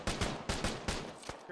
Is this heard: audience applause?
no